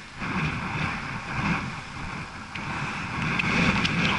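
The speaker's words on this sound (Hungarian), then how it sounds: "megfordult a szél" Strong north-northwest wind of about 45 km/h blows outdoors on the Deseda loop, a steady rushing roar with low buffeting gusts that swell and ease over a few seconds, with no voices.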